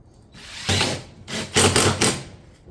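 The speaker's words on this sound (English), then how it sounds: "fastening into our batten system with 2 fasteners per cap" A power drill drives fasteners through ridge caps into a tile roof batten system on a barrel vault tile install, giving short loud whirring bursts with brief pauses between them, close and without talk.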